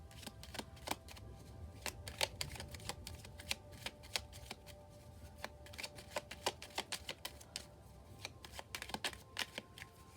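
A starseed oracle card deck is shuffled by hand, producing quick, crisp riffling bursts and soft card slaps in an irregular rhythm, close and fairly quiet, with no talking.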